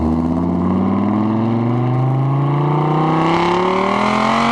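Dodge Viper with side-exit exhaust revving up, a loud, close engine note climbing steadily in pitch over several seconds with no talk.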